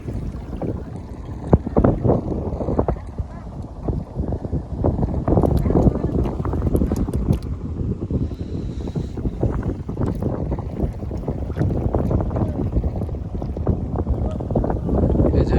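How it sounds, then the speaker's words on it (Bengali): A boat travels on floodwater between villages in rural Bangladesh, with a steady broadband wash of water and wind noise running throughout. The sound is fairly loud and close, and there are scattered knocks and splashes. "এক গ্রাম থেকে আরেক গ্রামে যাচ্ছে নৌকা নিয়ে"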